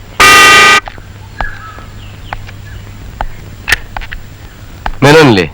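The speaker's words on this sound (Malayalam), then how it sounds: "ആ ഹോൺ അടിക്ക." A car horn blares in two long loud blasts, one at the start and one at the end, with footsteps, scattered knocks and background noise between them.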